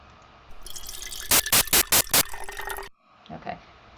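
A stream of recorded water pours with a gradually descending pitch, interrupted by five regular, loud noise bursts before ending sharply; a few faint soft sounds follow.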